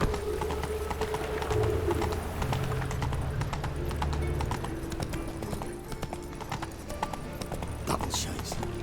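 Hooves of a horse clip-clop steadily on the ground in The Witcher 3: Wild Hunt, a fairly quiet, even rhythm that keeps going throughout under faint game ambience.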